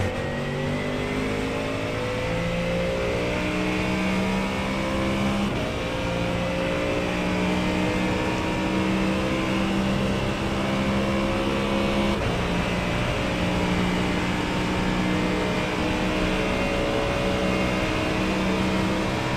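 A Ford Mustang GT3 race car engine in a racing sim at Daytona in the rain, droning loud and steady throughout, with gear shifts and rising revs recurring in cycles.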